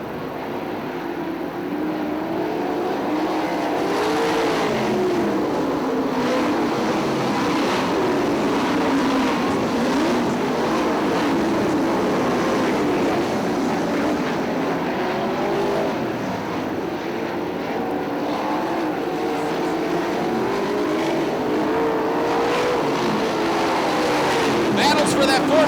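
410 sprint cars race at Fremont Speedway, a continuous loud engine roar with rising and falling pitch as cars run side by side, while an announcer talks over it.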